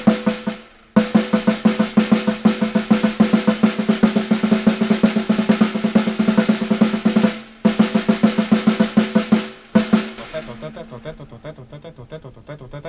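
A drum practice sequence of single and double strokes with accents plays as rapid, loud strokes in bursts separated by brief pauses, with some hits standing out louder than others, then a lighter stretch at the end.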